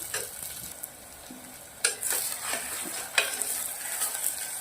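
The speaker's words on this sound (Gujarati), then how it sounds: "થોડી વાર આને સંતરાવા દેશું" Steady oil sizzle with bursts of stirring and scraping in a pan as potatoes and green cowpeas (chori beans) sauté, close and moderately loud, no voices.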